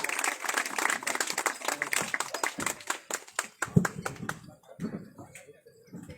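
Audience at a Hindi comic poetry gathering clapping, a dense burst of applause that thins out into scattered individual claps and fades toward the end.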